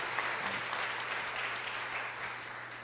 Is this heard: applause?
yes